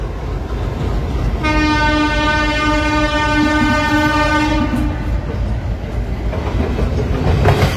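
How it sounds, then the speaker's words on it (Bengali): A train horn sounds in one long sustained blast over the steady rumble and clatter of rolling stock passing the Bardhaman loco shed, loud and close. "এই যে বিশাল লোকোশেডটা, কত ইঞ্জিন দাঁড়িয়ে আছে এখানে"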